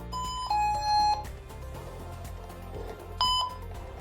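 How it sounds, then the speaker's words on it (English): A falls detection bed sensor mat gives a short electronic beep, then a louder sustained tonal alarm sounds in two bursts separated by a quieter gap, close and clear with no talk. "listen for the beep that shows the system has identified a person who's on the bed, and then get off. You should have a full alarm."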